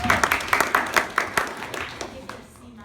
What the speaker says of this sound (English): Round of applause for yourself.